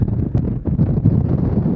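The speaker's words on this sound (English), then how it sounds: "It's very windy up here." Strong wind buffets the microphone high up at Red Lake China Clay Works on Dartmoor, with a constant low roar and gusty rumbling, loud and continuous throughout, with no voices.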